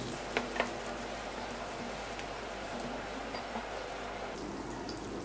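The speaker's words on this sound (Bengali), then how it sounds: "আলুটাও আমি হালকা ভেজে নেব।" Potatoes being lightly fried in a pan for a fish curry, a soft steady sizzle with a couple of faint pops near the start.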